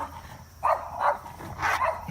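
A neighbor's dog barks in a backyard, giving three or four separate barks at a moderate distance over a quiet background.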